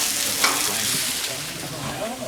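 Onions frying on a camp stove at an outdoor cooking spot, a steady close sizzle with stirring throughout and a brief scrape near the end.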